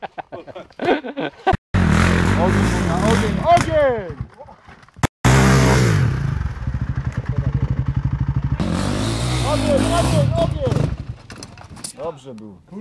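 A Kawasaki KXF450 enduro motorcycle stuck in a muddy bog near Krzeszowice revs hard in repeated bursts, the engine whining up and down with clattering and sputtering. There are two brief cutouts, and voices can be heard nearby.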